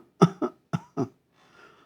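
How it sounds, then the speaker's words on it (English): A doctor demonstrates a weak, repetitive, non-explosive cough: four short, soft cough bursts in quick succession, close up, followed by faint quiet breathing. "There will be weak, repetitive, multiple cough, which is not really explosive one."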